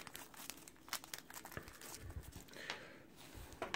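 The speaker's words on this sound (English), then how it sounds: "So let's go ahead and open this plastic bag." A plastic bag holding a Dragon Ball Z Piccolo figure is opened close up, with quiet crinkling and rustling in irregular bursts and a few sharper crackles, all faint and with no speech.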